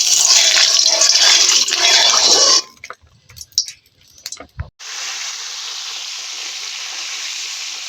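Bata fish rubbed with salt and turmeric hits hot oil in a heated pan: a loud hiss first, then a few clattering knocks, then a steady, even sizzle that holds to the end.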